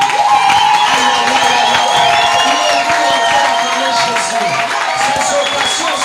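A church congregation cheers and shouts in acclaim of Christ as king of kings, loud and continuous, with whoops and voices rising over a sustained electronic tone.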